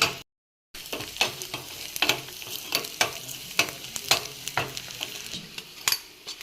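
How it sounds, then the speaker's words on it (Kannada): Spices and chili powder fry and get stirred in hot oil for a home-cooked sambar, a steady close sizzle broken by repeated scraping stir strokes, with a brief silent gap near the start. "ಇದಕ್ಕೆ ಸ್ವಲ್ಪ ಖಾರದ ಪುಡಿ ಹಾಕೊಳತ್ತೀನಿ ನೋಡ್ರಿ ಎಲ್ಲಾನು ಚೆನ್ನಾಗಿ ಫ್ರೈ ಮಾಡ್ಕೊಬೇಕು ನೋಡ್ರಿ ಎಣ್ಣೆ ಒಳಗೆ"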